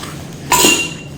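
A new square teapot clinks once as it is lifted and set down during unboxing, a short bright ceramic chink with a ringing tail, close and alone.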